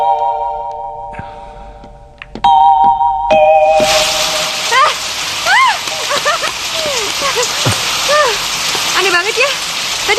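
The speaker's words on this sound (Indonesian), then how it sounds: "tiba-tiba jadi hujan sekarang." Rain suddenly begins after a quiet opening with faint tones, turning into a loud, steady downpour with splashes and drips close by.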